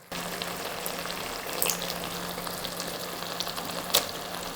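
Onions caramelizing in plenty of butter in a pan give off a steady, fairly close sizzle and hiss that runs throughout, with a few brief louder crackles and no talking.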